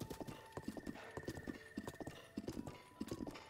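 Rapid rhythmic hoofbeats of a galloping horse with a whinny, steady and close, a sound effect from the video game The Legend of Zelda: Breath of the Wild, with no talking.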